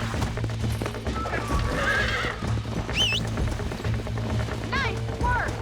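Horse whinnies and hoof clip-clop in the Red Dead Redemption video game, the neighs rising high and wavering several times over a steady ranch background with continuous hoof thuds and some faint game speech.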